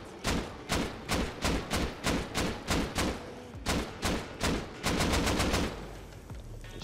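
Gunshots from explosive ammunition in a survival video game ring out as a rhythmic run of about a dozen loud, punchy single shots, spaced evenly, ending in a rapid burst of closely packed blasts.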